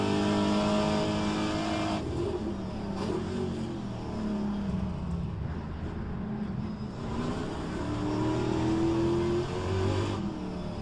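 A Trans-Am race car in rFactor 2 lifts off and rebuilds revs, the loud engine drone dipping and then climbing in pitch steadily over about ten seconds, with no voices.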